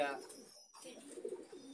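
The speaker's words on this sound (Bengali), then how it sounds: "দাদা এই এক জোড়া কবুতর দেখতে পাচ্ছি" A pair of pigeons, a male and a female of a fancy flying breed, give a soft, low, close coo that briefly drops out mid-call and then resumes, with no other sound around it.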